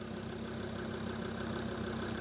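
Steady car engine idling, a constant low rumble with a faint ticking knock, running alone at an outdoor camp setting with no talk.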